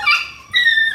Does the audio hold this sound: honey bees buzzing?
no